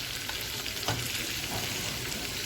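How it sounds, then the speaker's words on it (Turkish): Steady, loud sizzling of beans frying in a pan, with a brief scrape of stirring partway through. "Evet, şöyle kavuruyorum"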